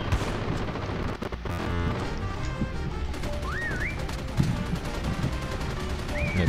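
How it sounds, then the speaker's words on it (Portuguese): Rapid machine gun bursts in the mobile shooter game Call of Duty Mobile, dense loud repeated gunfire with crashes and booms throughout, alongside game sound effects and rising electronic tones. "Não tô acertando nada, mas metralhando."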